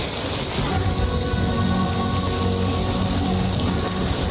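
Heavy rain pours steadily in the video game Death Stranding 2, a dense, loud, unbroken hiss of falling water with no voices over it.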